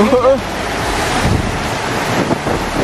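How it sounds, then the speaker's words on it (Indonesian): Steady, blustery wind noise with a wash like pouring rain, loud and continuous throughout, with a brief tonal chirp at the very start. "Langsung turun hujan plus angin."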